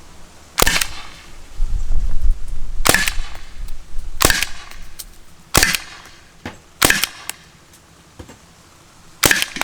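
A bone-stock Umarex HDR50 Gen 2 CO2 air pistol, 13J version, fires seven sharp, loud shots at uneven intervals of a second or so, each crack standing alone with quiet between.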